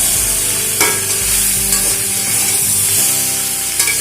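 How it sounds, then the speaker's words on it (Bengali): Vegetables for a Malabar spinach and prawn dish sizzle loudly in a hot pan while a utensil stirs and scrapes them with repeated strokes, close and continuous. "খুব ভালো করে সমস্ত সবজি ভাজা করে নিয়েছি।"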